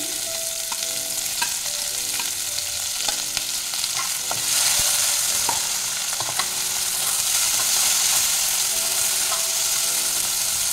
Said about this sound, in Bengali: পেঁয়াজটা ভালো করে ভেজে নেব নরম করে।